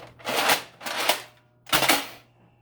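Nerf Centurion blaster working at close range: three loud, breathy whooshing bursts, each about half a second long, with short pauses between, the final one followed by a faint mechanical click.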